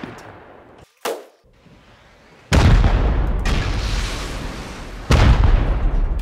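Rocket fire and explosions during a base raid in the survival game Rust, with a sharp early blast followed by two heavy, sustained booming explosions that roll on loudly.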